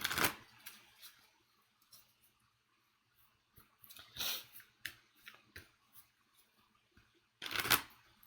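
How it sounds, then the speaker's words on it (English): Quick bursts of card riffling and flicking, a few short crackling shuffles spaced apart with quiet gaps between, close up and fairly soft. "let me shuffle"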